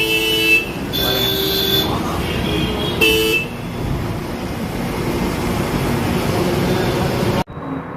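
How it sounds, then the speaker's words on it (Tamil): Brand-new electric city bus on route 70V in Chennai sounding its horn, several loud honks in the first few seconds over steady traffic and engine rumble, then a continuous road noise that cuts off abruptly near the end. "ஹாரன்லாம் நல்லா சூப்பராக அடிக்குதுங்க."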